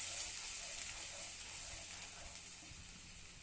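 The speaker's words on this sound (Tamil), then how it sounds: "அரைச்சி வச்சுட்டு ஒரு வதக்கிடுவோம்." A paste of ground dry ginger, karpooravalli (Indian borage) and tulsi (holy basil) sautés in a pan, giving a steady, soft, even sizzle and hiss throughout, fairly quiet and heard alone.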